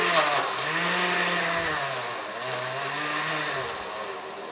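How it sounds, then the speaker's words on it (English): A low-grade countertop blender runs continuously, blending bananas, dates, almond butter, cinnamon and vanilla; a loud, steady motor whir rises and dips slightly as the load shifts, with no talking. "we're going to blend that until it's smooth and creamy"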